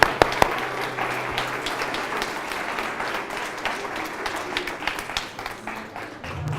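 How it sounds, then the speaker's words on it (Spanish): Audience applause breaking out after a story is told, a fairly soft but steady patter of many clapping hands, with a few sharper taps near the start and low murmur beneath. "¡Un aplauso!"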